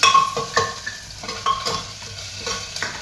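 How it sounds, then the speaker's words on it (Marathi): Ginger-garlic paste sautéing in hot oil in a pan, with a soft sizzle under repeated scraping and clinking stirring strokes close by; no talking. "आलं लसणाची पेस्ट टाकलं, पेस्ट चांगली त्याने खमंग तेलामध्ये परतून घ्यायचं"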